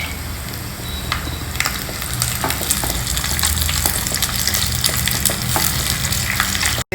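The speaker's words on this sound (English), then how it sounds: "Fry a few pieces of chopped coconut. Next add in the cashew and raisins too." Chopped coconut, cashews and raisins fry in hot ghee in a pan, a steady close sizzle with scattered crackles and spatters for several seconds before stopping abruptly, with no voices.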